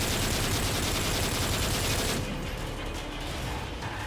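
Rapid automatic gunfire rattles in Call of Duty: Modern Warfare 3, a continuous dense burst that drops slightly in intensity partway through.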